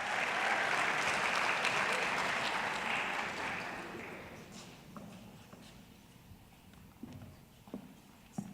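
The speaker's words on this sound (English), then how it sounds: "Let's give a huge round of applause to our Oak Ridge Super Scholars." Strong, dense applause from a school awards audience cheering student scholars, loud for about four seconds and then tapering off, leaving scattered claps and small knocks in a quiet hall.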